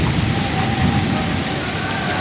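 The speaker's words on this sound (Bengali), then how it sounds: "প্রচুর বৃষ্টি।" Heavy rain falls in a dense, loud, continuous roar during a storm with lightning, filling the whole short stretch without any voices.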